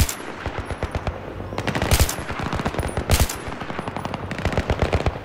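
Machine gun fire in the Battlefield 3 video game rattles in rapid, continuous bursts, with several heavier shots punching through the stream of automatic fire.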